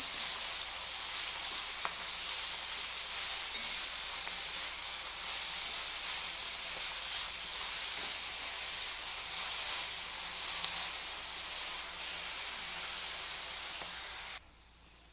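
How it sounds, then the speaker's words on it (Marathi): Fenugreek leaves fry in hot oil, a loud, even, hissing sizzle that holds steady close by for about fourteen seconds and then cuts off abruptly, with no talking. "मेथी या मेथीला छानपैकी आपण छान तेलात फ्राय करून"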